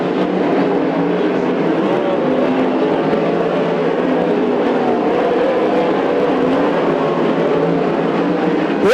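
Sprint cars race around the track at Coos Bay Speedway during a Western Sprint Tour event, a loud, steady blend of several engines roaring without a break and dipping only slightly as they pass.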